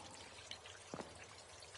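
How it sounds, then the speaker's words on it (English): Water trickling over the top of a drain in Colossal Cave VR, a soft, steady watery hiss with a couple of faint splashy drips standing out briefly. "I love this little bit of water at the top of the drain here"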